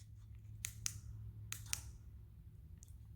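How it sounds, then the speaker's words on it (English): A C6 Corvette's door locks actuating via the key fob, a few sharp mechanical clicks in small clusters, faint against a low steady hum in a quiet setting. "So we'll go ahead and hit the door locks."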